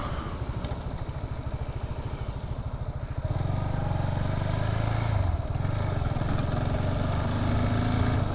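A heavy, powerful rented motorcycle throbs with a fast, pulsing engine beat, then the tone climbs and holds steady as it rides on, loud and close with road and wind noise.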